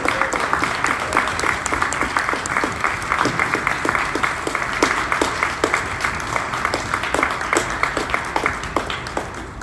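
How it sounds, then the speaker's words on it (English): An audience at a robotics competition applauds as the judges walk onto the center stage, a dense, steady clapping with sharp individual claps standing out throughout, fairly close and sustained. "Round of applause for the judges."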